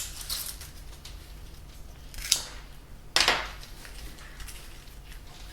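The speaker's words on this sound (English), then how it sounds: "I'm going to cut it really, really short." Scissors snip a salmon-coloured dahlia stem short, two or three crisp cuts close and fairly quiet against a soft background hush.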